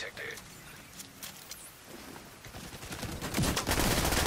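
Gunfire in the video game The Division 2 rattles in quick bursts, growing into a dense, louder volley toward the end, mixed with faint game mechanisms and footsteps.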